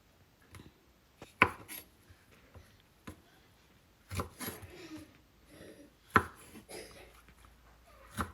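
A knife cuts through banana peel in a quiet setting, with scattered soft chops and a few sharper knocks against a board, irregular and close, no talking heard.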